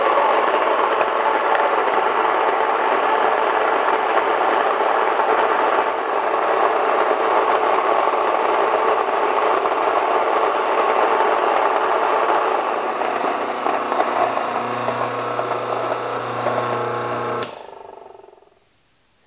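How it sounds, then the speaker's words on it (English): Mockmill grain mill milling wheat berries into fine flour gives a loud, steady motor-driven grinding whir that holds constant for about seventeen seconds, then cuts off abruptly into silence. "I'll run the wheat berries through the mock mill grain mill, which does an amazing job of milling fine flour"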